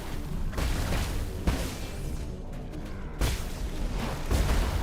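Explosions in the video game Nine Sols, a series of heavy booming blasts that come in repeated bursts, loud and close, with rumbling between them.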